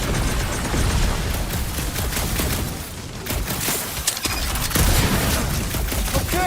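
Heavy gunfire in the Guardians of the Galaxy video game: a continuous, loud barrage of rapid shots and blasts with booming impacts, briefly dipping before surging again.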